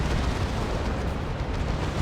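Heavy shots explode in a Dawn of War 2 battle, a dense, continuous rumble of blasts and booms packed together with no clear gaps.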